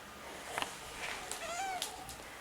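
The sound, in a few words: cat meowing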